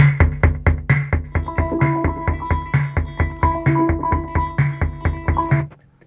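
Rhythmic synth pattern run through a Plan B Textural super filter, with sharp repeated percussive hits under sustained filtered tones and shifting pitched layers, loud and steady before cutting off near the end.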